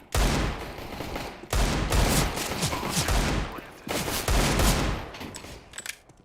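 Loud, sustained gunfire in Counter-Strike: Global Offensive rattles in three long, dense volleys separated by brief breaks, close and heavy throughout.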